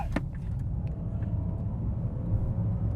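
A Rolls-Royce Spectre and a Mansory Cullinan launch in a drag race, with a deep continuous rumble of accelerating vehicles and a brief sharp sound at the start, heard from nearby without talk.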